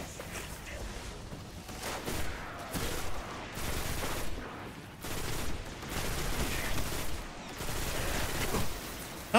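Continuous, spray-like bursts of gunfire from a gun in Minecraft (Texture World 1.21), loud and close, rattling almost without pause over a steady game-sound bed with no talking.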